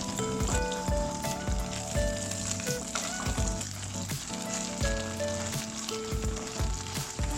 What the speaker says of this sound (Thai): ก็พลิกกลับด้านไข่นะครับให้อีกด้านหนึ่งเราสุกเหลือง